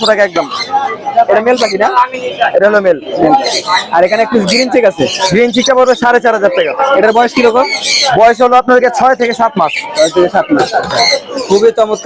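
Cage birds at the Mirpur-1 bird market, cockatiels among them, chirp and squawk continuously in a dense, busy chorus close by, with people talking throughout.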